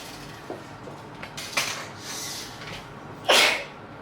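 A single sharp sneeze bursts out near the end after a few soft clicks and rustles in a quiet room.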